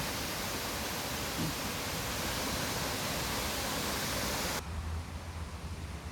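A waterfall gives off a steady, full hiss of rushing water that stays constant and fairly close, then drops abruptly to a duller, quieter rush near the end. Nobody talks.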